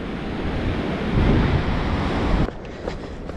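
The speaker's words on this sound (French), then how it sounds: "Ce bruit, c'est l'océan. Elles sont belles les vagues" Ocean waves break and wash onto the shore at night with a steady roaring surf and wind noise, loud and close, then drop abruptly to a quieter wash near the end.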